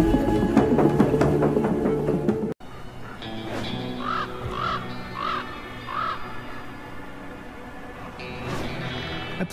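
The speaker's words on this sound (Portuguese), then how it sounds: "os corvos também habitam as regiões a norte do Círculo Polar" Several crows caw in the Arctic north of the Polar Circle, a run of repeated harsh calls in the middle of the stretch over layered background sound, with a bright call near the end.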